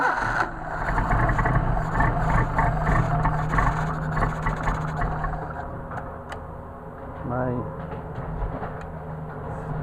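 A Mercedes 190SL on Solex carburetors runs after being choked, its engine a steady, rough, mid-level idle with light mechanical rattling, while someone talks over it.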